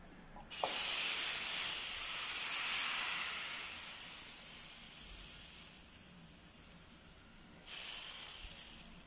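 A ladle of crepe batter hits a hot pan wiped with oil and butter and sizzles into a loud steady hiss that slowly softens, then a second burst of hissing sounds near the end.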